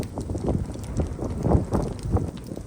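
Wind blows during a winter hike through a snowy forest, buffeting the microphone with a low, gusty rumble that rises and falls for a few seconds and has no talk over it.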